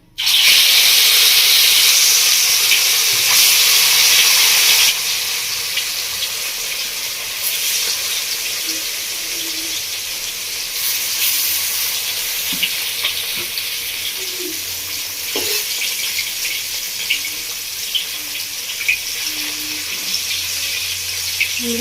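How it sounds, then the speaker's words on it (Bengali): Fish frying in oil for a Bengali village-style fish curry: a loud, steady close sizzle, harsher at first and then settling into a continuous crackle with scattered small pops. "এবার বন্ধুরা, মাছগুলো ভেজে নেবো।"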